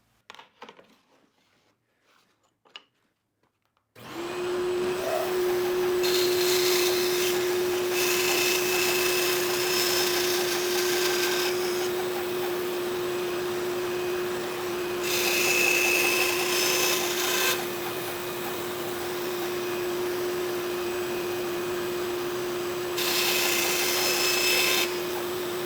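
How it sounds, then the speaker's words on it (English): A bandsaw runs steadily with a loud tonal hum, cutting a pen blank held in a homemade jig, the blade noise swelling in bursts as the wood is fed through after a quiet start. "let's go back to the bandsaw and give it a quick test"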